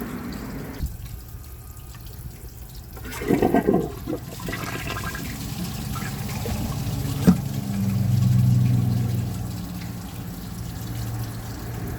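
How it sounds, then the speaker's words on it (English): Glacier Bay high-efficiency toilet flushing: a loud rushing flush swirls and gurgles, then settles into a steady trickling refill of the tank, heard up close with no voices. "I'm gonna come back with a second flush once the tank fills up."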